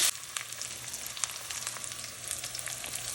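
Mustard seeds, cumin, onion, curry leaves and dried chilies fry in hot oil for rava uppuma, giving a steady close sizzle dotted with sharp crackling pops and no voices.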